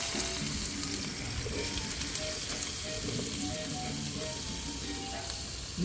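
Onion sizzling and frying in sesame oil in a pan for chicken kulambu, a continuous crackling hiss with occasional stirring scrapes, heard fairly close.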